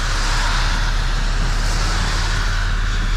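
Cars speed along a wet road in the rain, a dense continuous hiss of tire spray over a low engine rumble, loud and close with no voices.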